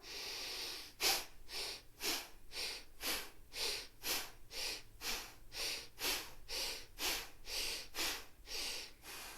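A yoga practitioner takes a series of rhythmic breaths, about fifteen close, audible inhales and exhales in steady succession with no talking.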